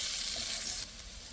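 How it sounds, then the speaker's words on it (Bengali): Chopped ginger and garlic fry in hot oil with a loud, close, steady hiss that drops abruptly to a softer sizzle partway through. "এটা একটু ভেজে নেব, বেশিক্ষণ ভাজবো না,"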